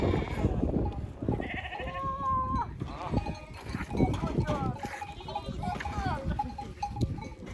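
Sheep and goats at a nomadic mountain camp in Turkey bleat repeatedly, close and overlapping, while people talk steadily over the flock.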